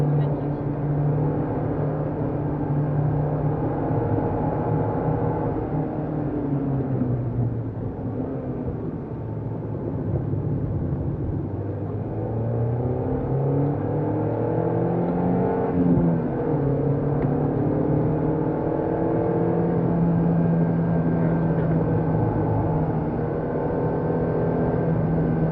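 Peugeot 206 S16 engine revving and pulling hard around a race circuit, a steady droning whine that rises and falls in pitch through the lap, with a voice coaching over it.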